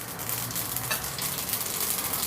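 Mustard seeds sizzling in a little hot oil for tempering a Gujarati chilli and raw mango relish, a dense, steady crackling hiss close by that runs unbroken throughout, with no voices.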